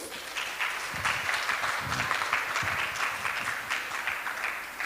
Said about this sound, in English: Can we have a round of applause again for the 3 to 5?